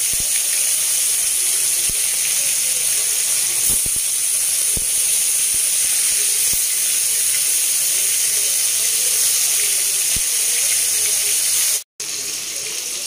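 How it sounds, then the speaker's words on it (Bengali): Prawns fry in hot mustard oil, giving a loud, steady sizzling hiss close by for the whole stretch, with a few soft clinks of utensils and no voices. "এবার আমি চিংড়ি মাছগুলো ভেজে নেব।"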